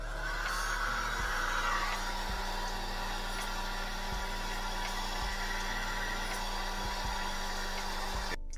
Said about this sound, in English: I'm gonna use the blow dryer to dry it a little bit